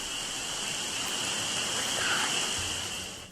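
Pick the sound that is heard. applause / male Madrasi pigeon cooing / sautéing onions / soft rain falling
soft rain falling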